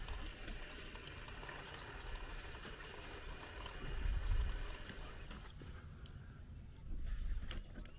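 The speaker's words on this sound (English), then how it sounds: "it is leaking out of that water filter housing" Water leaking from the sediment filter housing of a Class A motorhome's water pump makes a steady, close hiss and trickle, with two brief swells of louder flow, before the sound drops away near the end.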